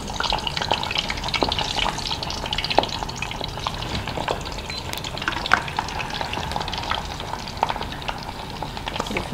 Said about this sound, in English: They just go in there, and you should see that sizzle straight away.